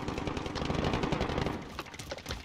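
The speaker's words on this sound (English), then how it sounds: "Shooting." Rapid automatic gunfire from a Call of Duty match rattles in quick dense bursts at moderate volume, with no talk over it.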